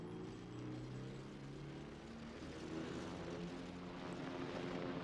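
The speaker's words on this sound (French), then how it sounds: "Et jusqu'aux hélicoptères de l'aéroclub qui l'escortent dans le ciel" Aero club helicopters escort a funeral procession in Guatemala in 1981, their engines a faint, steady droning hum overhead with wavering tones, distant and continuous.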